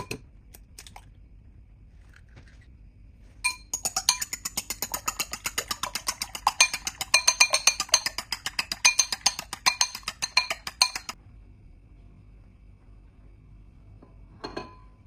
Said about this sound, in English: Beat 2 eggs.